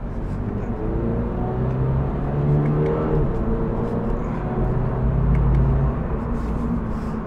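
A 2022 Toyota GR86 sports car drives on the road, its engine a steady close rumble that rises and swells with acceleration, with no one speaking.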